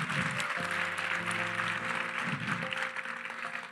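A church congregation applauds during a worship service, a steady wash of clapping from a crowd, moderately loud and continuous, with faint voices and a sustained instrumental tone underneath.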